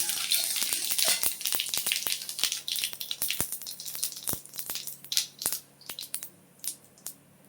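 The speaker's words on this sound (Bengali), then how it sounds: "তেল দিয়ে দেব জিরা ফোড়ন দিয়ে দিলাম" Cumin seeds tempering in hot oil alongside dried red chillies, a quiet run of sharp crackles and pops at an irregular pace, close by with no talk.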